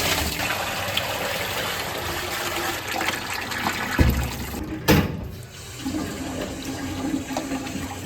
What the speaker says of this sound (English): We just want to rinse all that off, get them nice and clean before getting them dried.